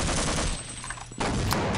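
Gunfire in the video game Half-Life: Uplink, a loud dense burst of rapid shots filling the whole moment, with a brief dip before the firing resumes, no talking.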